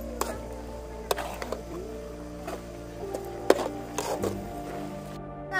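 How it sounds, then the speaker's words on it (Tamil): A spoon scrapes and knocks in a pan while snail fry with chilli powder is stirred, giving irregular clinks and taps over a low steady background hum, moderately close. "மிளகாத்தூள் போட்டதுக்கு அப்புறம் நல்லா கிண்டணும்."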